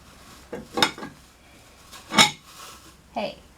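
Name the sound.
spoon knocking against items while crafting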